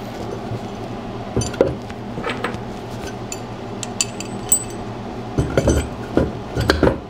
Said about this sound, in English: I'm sticking a washer and a nut on top